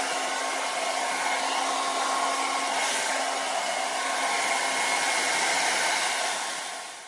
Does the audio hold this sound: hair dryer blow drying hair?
yes